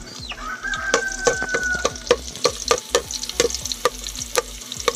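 Garlic, onion and ginger sautéing in a pan, with a loud continuous sizzle and repeated scraping stirs close by, while a rooster crows in the background.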